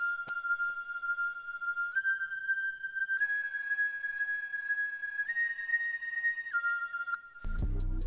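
Bright synth lead melody for a futuristic glo beat, playing sustained tones that step upward in pitch over several bars, heard alone and loud before a low boom at the very end.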